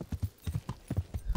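Horse hooves clip-clop on the ground in Kingdom Come: Deliverance, a quick uneven run of about a dozen hollow thuds, close and fairly soft, with no voices.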